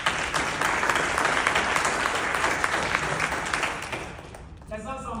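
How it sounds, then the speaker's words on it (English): Conference audience at an MES industry event breaks into sustained, dense applause filling the room, staying loud before tapering off at the end as a voice begins. "Let's give them and yourselves a round of applause"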